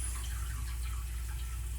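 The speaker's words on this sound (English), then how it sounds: "I'm going to put some water in the pan." Water pours steadily into a cooking pan for an artichoke, a soft continuous filling splash heard close and alone without talk.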